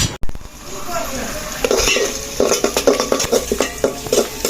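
Onions sizzle and fry in hot oil as the base for a goose meat bhuna, with steady crackling broken by stirring scrapes and clinks of a spoon against the pot, close and fairly loud throughout.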